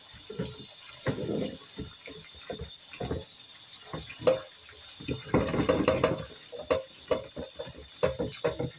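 Boiled beans being washed under a running tap, with water splashing in bursts and sloshing as the beans are rubbed and stirred in a sink, close by, no voices.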